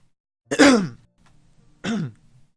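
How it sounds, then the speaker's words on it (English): Two harsh coughs straight into a close microphone, a strong one followed by a second after a brief pause, with silence around them. "I just coughed into my mic."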